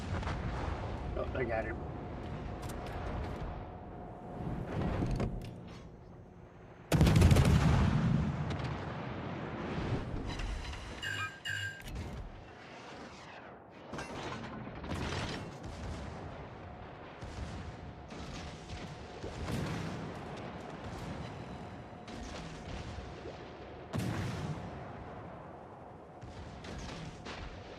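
Heavy naval gunfire and torpedo blasts from a warship battle video game, with booming bursts and a loud impact near the seven-second mark over a continuous engine drone, while someone talks briefly.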